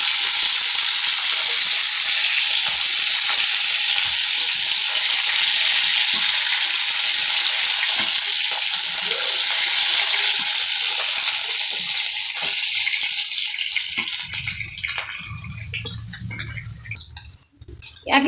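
Bam fish frying in hot oil gives a loud, continuous close sizzle, with a few clinks of utensils as it tapers off near the end.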